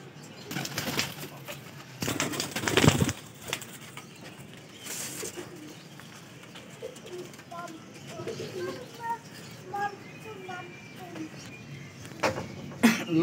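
Highflyer baby pigeons coo softly in a loft in Lahore, with a few short, scattered calls and occasional wing flaps under steady background noise. Someone talks over parts of it.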